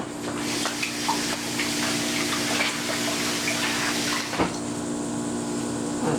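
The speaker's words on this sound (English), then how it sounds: "Better wash my hands again." Hands being washed under a running tap, a steady close rush of water that pauses briefly near the end and then resumes, with no voices.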